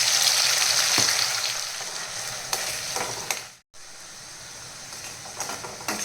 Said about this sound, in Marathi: आपण इथे एक पाच मिनटं छान मस्त हे वाटण तेलामध्ये फ्राय करून घ्यायचो